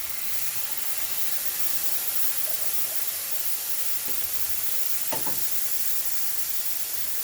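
Canned potatoes frying in a pan at a campsite breakfast give a steady, loud hiss and sizzle throughout, with a few soft clinks of utensils.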